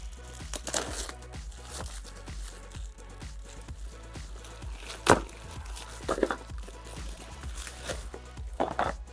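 Plastic parcel packets are torn open and unwrapped, giving close crinkling, rustling and sharp tearing bursts in an irregular rhythm, with louder rips now and then.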